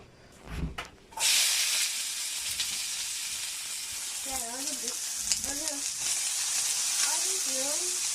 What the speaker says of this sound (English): I'm gonna put the onions in first